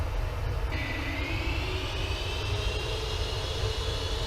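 Steady jet engine roar of a Cargolux Boeing 747F freighter with Rolls-Royce engines in a flight simulator, a constant broadband drone with a rising high whine that enters early and holds throughout, no talk.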